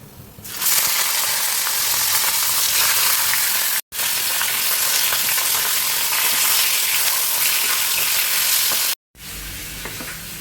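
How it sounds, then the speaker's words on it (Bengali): Fish fries in a pan with a loud, steady hiss and crackle of hot oil, broken by two brief cuts and with no voices. "মাছটা ভাজা হোক"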